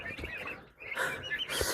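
Soft chirping and peeping of young turkeys in a brooder, a few thin calls rising over a quiet, rustling background, fairly close.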